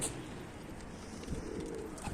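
Domestic flying pigeons of Turkish breeds such as dönek, dolapçı and kelebek coo softly, faint and somewhat distant, over a low background hum.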